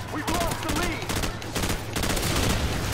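Rapid bursts of M16 rifle fire in the Xbox 360 game Call of Duty 4 ring out loud and close in quick volleys, with overlapping shots filling the whole moment and a voice talking underneath.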